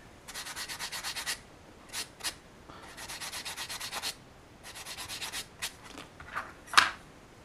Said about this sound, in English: I'm gonna continue sanding to make sure that line goes away.